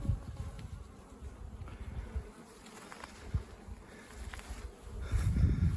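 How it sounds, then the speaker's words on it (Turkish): Dense, steady buzzing of many bees close by at hives, a continuous droning hum that swells louder near the end, with no voices. "arılar gayet güzel çalışmalarına devam etti"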